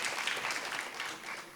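Brief applause from an audience at a research presentation, steady and fairly quiet, with a dense patter of claps that holds through the moment.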